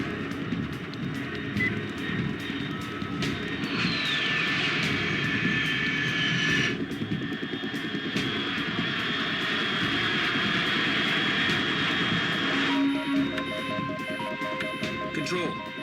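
Fast aircraft flying overhead at high altitude in the stealth action game Metal Gear Solid 3, a steady loud engine roar with a rising whine, continuous through the scene amid game ambience, with brief beeping tones near the end.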